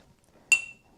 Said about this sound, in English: Just take the back of a little spoon and push that